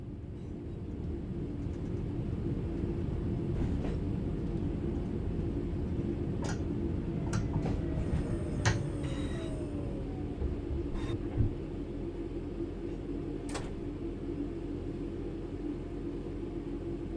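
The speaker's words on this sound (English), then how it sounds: "The train will then coast on level ground" A train coasting on level track in Train Sim World 4 with the throttle closed: a steady low rumble of running gear throughout, broken by a few faint clicks and ticks.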